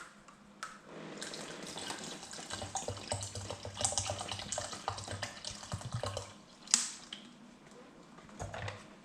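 Purified bottled water poured into a container to top up a homemade Jamaican ginger drink, a soft splashing, trickling pour with a few louder gurgles and drips, close and quiet, with no talk.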